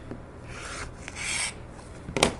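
Rotary cutter or blade trimming the corners of a fabric quilt star block, heard as a soft close scraping rasp that builds briefly, then a sharper cutting stroke near the end, alone with no talk.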